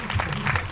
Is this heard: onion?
no